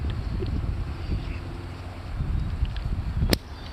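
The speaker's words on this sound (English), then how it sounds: "It's a little windy." Low, buffeting wind rumble hits the microphone in gusts, with a sharp brief click near the end.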